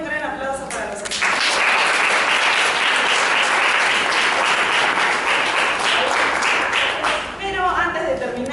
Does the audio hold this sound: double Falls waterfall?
no